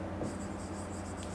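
Marker or chalk writes on a board in a classroom, giving a quiet, continuous scratchy squeak over low room hum, brief and alone with no talk.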